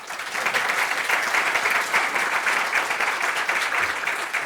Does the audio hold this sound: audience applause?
yes